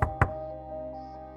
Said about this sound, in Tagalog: At biglang kumatok.